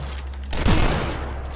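A shotgun blast in the retro first-person shooter Dusk, one loud booming shot with a rough decaying tail over a low steady background hum.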